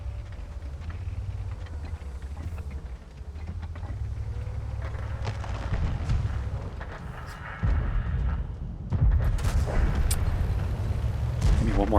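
Tank cannon shots and battle rumble in World of Tanks: a steady low engine drone with heavier booming blasts growing louder toward the end, with no talk.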